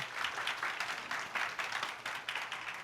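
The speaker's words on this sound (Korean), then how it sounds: "라문우 교수님께 감사의 박수 한 번만 더 부탁드리겠습니다" An audience at a university mechanical engineering lecture applauds the professor, a moderately quiet, sustained patter of many hands with slight swells, heard at a distance with no voices on top.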